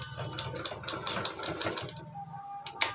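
A sewing machine stitches waste fabric into a machine cover in short rapid bursts of needle clatter, close and fairly loud, pausing briefly near the end.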